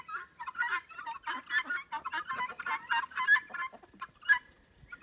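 A flock of backyard roosters and hens clucks and chatters up close. The calls are busy and overlapping, with a few sharper squawks rising above the rest.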